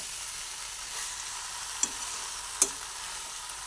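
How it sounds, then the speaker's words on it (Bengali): Jackfruit and fried potato curry being stirred and sautéed in a pan over a lowered flame, a soft steady sizzle with two sharp clicks of the spoon against the pan, no speech. "ভালোভাবে নাড়াচাড়া করতে করতে সুন্দরভাবে কষিয়ে নিলাম"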